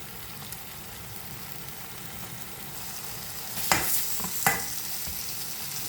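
Mushroom curry simmers in a pan with a soft continuous bubbling sizzle, and two brief louder stirring scrapes stand out near the end.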